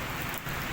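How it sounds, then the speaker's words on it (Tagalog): Heavy morning rain falling outdoors near a shopping mall, a dense steady hiss of drops pounding surfaces, loud and close throughout with no letup. "lakas talaga ng ulan guys"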